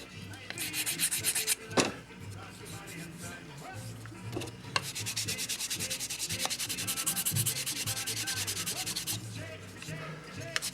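Close, steady sanding of rough edges on a model aircraft landing gear part: fine abrasive rubbing strokes repeat back and forth over a small surface, with a few knocks between passes.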